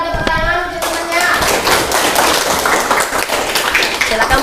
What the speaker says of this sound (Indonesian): Bisa berikan tepuk tangan untuk temannya.